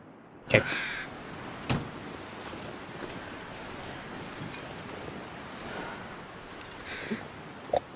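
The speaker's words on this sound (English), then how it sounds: "Like I hear a crow" Crows in the video game The Long Dark caw in a few sharp, spaced calls, one loud and several fainter, over a steady windy, surf-like ambient rush with no talking.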